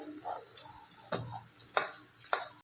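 Poha and potatoes stirred and frying in a pan: a soft steady sizzle with three sharp scrapes of a spoon against the pan, spaced about half a second apart.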